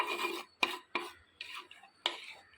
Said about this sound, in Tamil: இது கொஞ்சம் கிளறி விட்டுடலாம் அப்படியே.